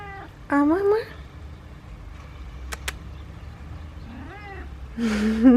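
A house cat meows twice in a quiet home, a short rising call near the start and another toward the end, with faint room background and a brief click in between.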